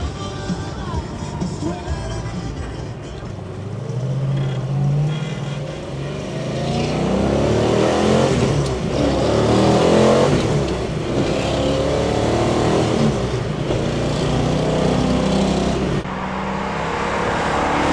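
A 1970 Dodge Challenger R/T 440 with a 4-speed sends out a deep V8 exhaust rumble that swells as the car accelerates, revving upward in rising pulls, loud and close.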